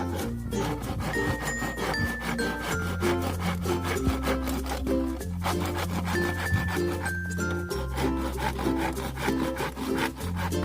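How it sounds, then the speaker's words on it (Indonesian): A hand saw rasps back and forth through bamboo in steady, rhythmic strokes, close and continuous over a backdrop of music. "kita potong dulu bambu-bambu ini menggunakan gergaji ya"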